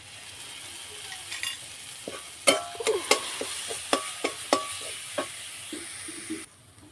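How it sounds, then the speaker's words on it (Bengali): Spices with salt, turmeric and ground chili are stirred and fried in a pan for a coconut vegetarian dish: crackling sizzle runs under a string of sharp spoon-against-pan scrapes and clacks, close and fairly loud, without speech. "মশলাটা ভালোভাবে কষিয়ে নিয়েছি"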